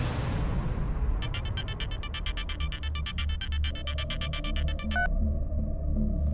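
A telephone rings in a Hindi TV crime drama scene, a rapid electronic ringtone pulsing in quick repeated bursts over a steady low background hum, with no voices.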